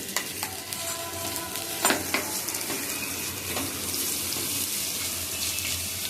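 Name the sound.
sautéing masala paste for stuffed brinjal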